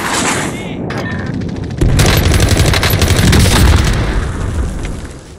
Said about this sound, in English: We're shooting rockets.